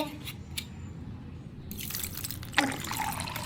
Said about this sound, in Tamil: தண்ணியை ஊற்றினா முடிஞ்சிருச்சு